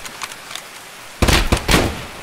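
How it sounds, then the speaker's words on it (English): Gunfire in the video game Escape From Tarkov: a few faint, far-off pops, then a louder cluster of sharp cracks in quick succession. "Gunfire, hear gunfire. I think it's far, though."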